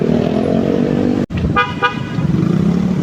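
A car horn honks on a road during a commute toward Makati, sounding as two short toots over steady traffic and engine rumble.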